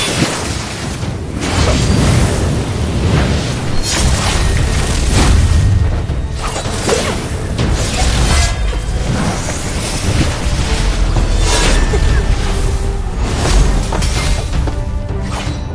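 Swords clash in a duel from a Chinese wuxia martial arts drama: heavy booming, crashing strikes land again and again over a dense, loud backdrop, with no talking.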